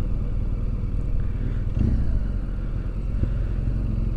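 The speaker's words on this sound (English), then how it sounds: "I like the torque of the engine, I like the sound of the engine." A 2007 BMW R1200GS motorcycle engine runs at a steady idle, with a low continuous throb and faint mechanical clatter, close and fairly loud with no voices over it.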